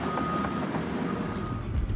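A large excavator drives across a newly buried pipe on a fresh road through the woods, producing a loud, steady engine roar and heavy rumble that continues without a break, with no talk.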